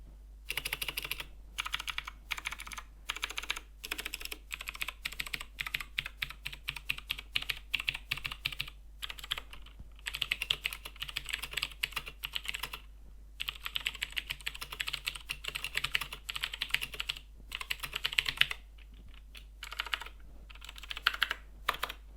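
Typing on an RK61 budget mechanical keyboard, a steady stream of close, crisp key clicks and clacks in quick bursts with brief pauses, alone over a faint low hum.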